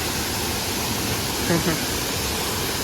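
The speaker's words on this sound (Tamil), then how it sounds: "ஓகே, ஃபால்ஸுக்கு ரீச் ஆயாச்சு. தண்ணி நல்ல ஃபோர்ஸில் விழுகுது." A forceful waterfall reached on a hiking trip in India roars as a dense, steady wash of noise, close and unbroken, with a brief faint voice barely showing through.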